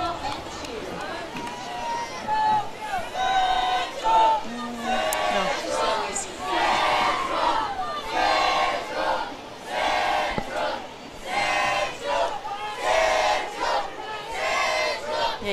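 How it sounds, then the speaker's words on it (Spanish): At the Bakersfield Christmas parade, a cheer squad chants loudly in repeated rhythmic bursts as they run along the street, with crowd chatter and an announcer talking around them. "Y ahí los escuchamos cantando Central."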